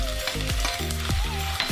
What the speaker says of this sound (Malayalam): വെളിച്ചെണ്ണ ആഡ് ചെയ്ത ശേഷം അതിലേക്ക് ഈ ഇഞ്ചിയും ചതച്ച് വെച്ചേക്കണ ഈ ഉള്ളിയും കൂടി നമ്മൾ ഇതിലേക്ക് ആഡ് ചെയ്യാൻ വേണം